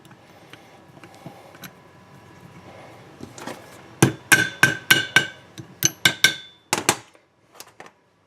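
Sharp metallic taps and clanks while a cotter key is fitted into a Thompson or Sears walking sprinkler, faint scattered clicks at first, then a rapid run of about a dozen loud ringing strikes before stopping.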